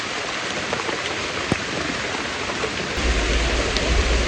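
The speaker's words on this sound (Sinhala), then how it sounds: "සාමාන්‍ය කරට වහිනවා" Steady rain falls through forest near a waterfall in Sri Lanka, a dense even hiss of drops with a few sharper close patters and a deeper rushing rumble swelling toward the end.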